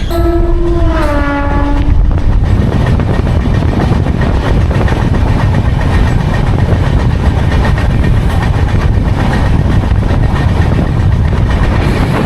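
Coimbatore Express passenger train on its daily service from Mangalore on Indian railways: a horn blast opens, then a loud, steady rolling rumble of the passing coaches fills the rest.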